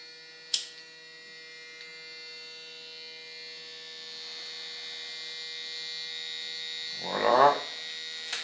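An electric smoking device for home-smoked trout hums steadily after a click switches it on, with a brief louder burst near the end.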